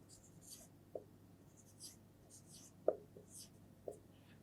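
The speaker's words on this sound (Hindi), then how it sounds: "मैं यहाँ लिखता हूँ" A teacher writes on a classroom board, making faint, scattered scratchy strokes with short pauses between them against a quiet room.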